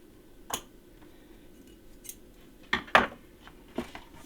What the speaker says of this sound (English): I'm actually just going to trim some of that ribbon just a little bit.